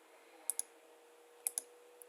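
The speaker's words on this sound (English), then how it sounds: "I'm going to right click on it" Computer mouse right-clicks, two quick double clicks close together followed by a faint final click, crisp and near in a quiet room.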